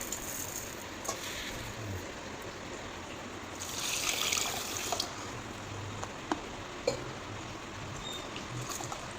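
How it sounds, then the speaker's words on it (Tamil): Water trickles and runs softly nearby as seeraga samba rice is washed, with light sloshing and a few small knocks, fairly quiet throughout. "அரிசியை தண்ணி ஊற்றி கழுவிடலாம்"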